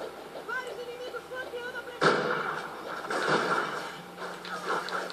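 Sniper rifle shots in the video game Call of Duty: Ghosts, fired with a thermal scope, sounding as a loud sharp blast followed by a rumbling tail, then further bursts of gunfire under a player's voice.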